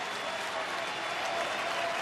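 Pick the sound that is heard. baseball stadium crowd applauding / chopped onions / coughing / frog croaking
baseball stadium crowd applauding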